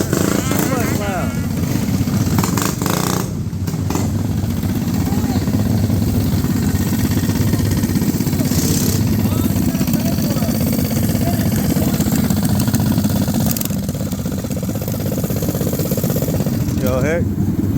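A loud minibike engine idles at a group rideout in Sacramento, giving a steady, close rumble that carries on continuously beneath several people talking.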